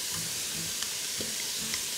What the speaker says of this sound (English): So I'm gonna toss in those onions. You can hear them sizzle.